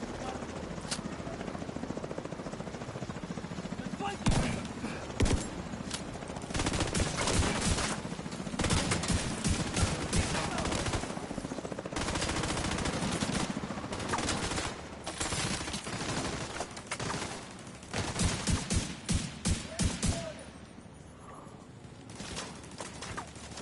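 Gunfire rattles in a firefight in the video game The Division 2, with repeated bursts and sharp shots scattered over a steady noisy background, fairly quiet in the mix and continuing for most of the stretch.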